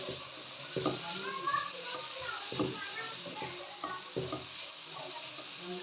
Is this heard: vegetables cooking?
yes